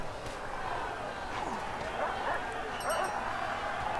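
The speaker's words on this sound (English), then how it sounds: "Guards in, the guard dog's involved." Guard dog barking during a prison yard brawl in the Prison Architect video game, small yips and barks mixed into a steady busy game soundscape with background talk.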